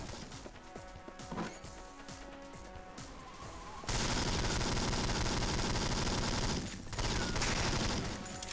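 Gunfire in the video game James Bond 007: Nightfire: scattered sharp shots at first, then a dense, loud stretch of rapid automatic fire that breaks off briefly and resumes, with no speech.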